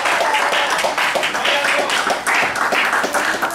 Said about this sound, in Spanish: Si quiere aplaudirle al Señor, apláudale fuerte.